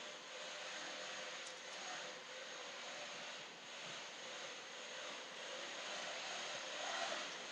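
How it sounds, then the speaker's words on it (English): Quilting machines run steadily in the background at a quilt shop, a constant mechanical hum and whir at a moderate distance with no talking. "Can you guys hear the machines running in the background?"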